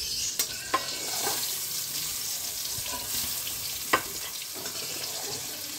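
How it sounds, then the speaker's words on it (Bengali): Eggplant slices frying in hot oil in a pan, a steady close crackling sizzle with a few sharper pops and clinks from the utensil. "বেগুনটা ভালোভাবে ভাজা হয়ে গেছে।"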